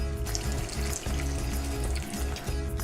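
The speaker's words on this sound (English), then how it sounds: "you can hear that oil bubbling up" Chicken deep frying in hot oil: steady bubbling and crackling, a continuous close sizzle with soft popping throughout.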